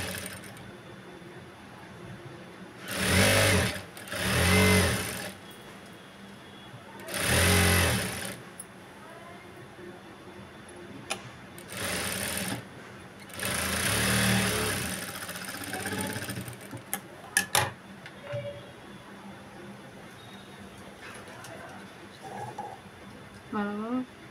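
Sewing machine stitching a Punjabi dress top, several separate runs of mechanical whirring a second or two long with pauses between, the machine close. Talk is heard between the runs.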